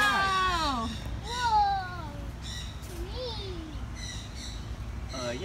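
Birds call at the Honolulu Zoo: several clear whistled calls that sweep downward, separated by short pauses, over a low outdoor background murmur.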